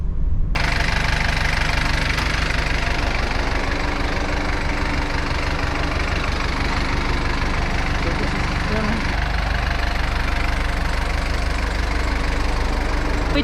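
A taxi engine runs steadily during an hour-long drive to Mui Ne, Vietnam, giving a loud, continuous mid-pitched rumble with road vibration from start to finish.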